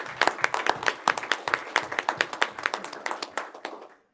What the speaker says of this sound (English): So let's give these folks a round of applause.